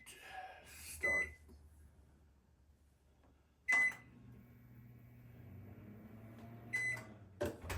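A kitchen microwave oven hums steadily after being started, with a few sharp beeps from its keypad breaking through the low, continuous running drone.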